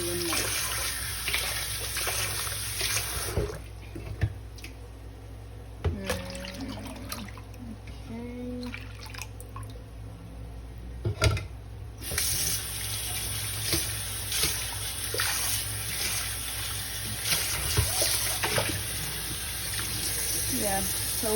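Molokia leaves are washed by hand in water, with steady splashing and running water and scattered sloshes and drips throughout, close and moderately loud, and a person talks at times beneath it.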